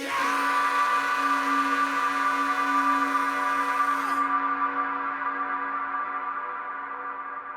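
A soloed vocal drenched in huge reverb rings as a thick sustained wash, the bright top end cutting off partway while the tail slowly decays, with no talking.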